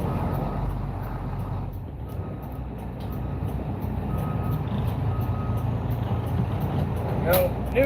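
A truck backs up with a faint, regular reversing beeper sounding above a steady low engine rumble, close and continuous throughout.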